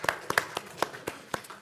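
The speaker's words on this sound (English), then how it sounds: "Give him a round of applause for getting old." Scattered applause at a city council meeting, a few sharp hand claps spaced unevenly rather than a full ovation, fairly quiet in a room, with faint voices mixed in.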